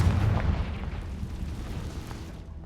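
In Hogwarts Legacy, a Confringo fire blast spell goes off with a heavy, close explosion whose low rumble stays strong and then slowly tapers across the whole short stretch.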